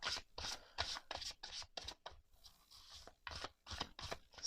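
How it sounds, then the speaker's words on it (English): Matte-cardstock tarot cards being shuffled, giving a quick run of crisp rustling, riffling bursts in steady bursts with a brief pause midway, close up and fairly quiet. "Seems to be shuffling pretty good. I like the noise that it makes."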